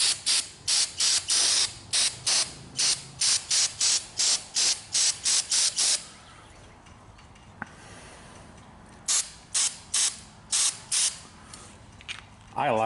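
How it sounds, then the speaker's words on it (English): Repeated short bursts of aerosol brake parts cleaner hiss in a quick series onto a two-stroke engine near the carburetor, pause for a couple of seconds, then resume with a few more bursts, close by. "I'm going to spray the area off with some brake parts cleaner"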